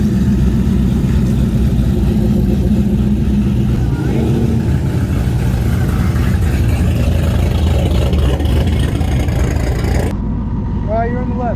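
Built 4.6 Texas-block Mustang engine running loud and steady, with a rough rumble throughout and voices talking over it near the end.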